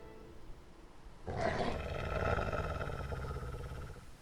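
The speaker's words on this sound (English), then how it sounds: "The wolf growled as they descended the slope." A deep, rumbling wolf growl swells in abruptly and holds steady for about three seconds as a standalone sound effect in a fantasy audio story, loud and close with no talking.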